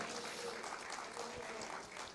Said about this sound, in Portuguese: Bate as palmas, glorifica o Senhor.